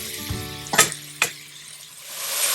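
Mushrooms frying in a pan over medium-high heat, giving a steady soft sizzle with a couple of brief utensil knocks early on, close up and fairly quiet.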